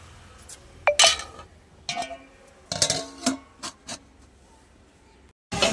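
A cooking pot of mung dal and bottle gourd is stirred in a home kitchen, giving a few close metallic clinks and scrapes, then a lid clatters down on it.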